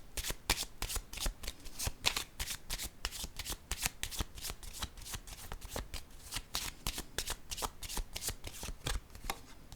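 A deck of tarot cards gets shuffled nonstop for about ten seconds, a fast, close papery riffling in quick repeated bursts with no voices.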